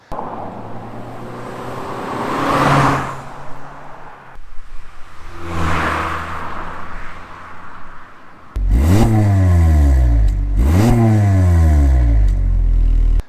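Volkswagen Lupo GTI hot hatch accelerating on a drive, engine note rising through the gears with two sharp revving pulls near the end, loud and close with no talking.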